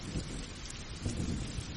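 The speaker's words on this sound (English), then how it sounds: "I'll leave the thunderstorm on for you for a little longer to help you sleep." A thunderstorm with steady rain plays as a sleep soundscape, with continuous rumbling thunder and a broad wash of rainfall that swells slightly about halfway through, with no voices.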